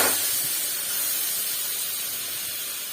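Ground ginger, garlic, onion and chilli paste sizzle in mustard oil, a loud steady hissing fry that starts with a burst and holds evenly throughout, close up.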